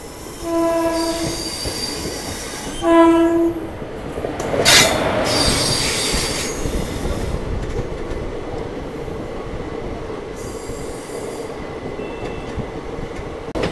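The 13173 Sealdah–Agartala Kanchanjungha Express at platform 1 of Kishanganj station sounds two loud horn blasts, then rolls past with a steady heavy rumble of wheels and occasional squealing.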